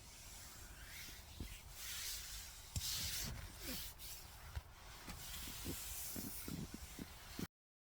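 Cloth wiping condensation off the inside of a tent fabric, soft continuous rubbing swishes with a few sharper scuffs, close and fairly quiet, ending abruptly.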